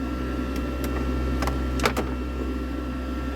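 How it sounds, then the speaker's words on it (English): A steady, droning fan hum runs throughout with a low tonal whine, joined by a few light clicks and knocks nearby. "Got the extractor fan on."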